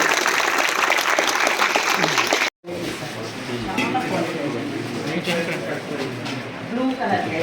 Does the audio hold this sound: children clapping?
yes